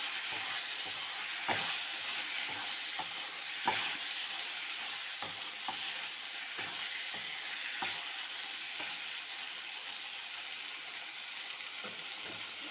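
Roti noodles get stirred in a pan right after chili sauce goes in: a soft frying sizzle runs throughout, broken by scattered scraping clinks of the spoon against the pan.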